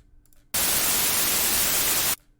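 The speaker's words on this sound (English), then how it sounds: "it'll just be white noise" Broadband white noise from all three oscillators of a 3x OSC synthesizer, a steady loud hiss that starts abruptly, holds flat for about a second and a half, and cuts off cleanly.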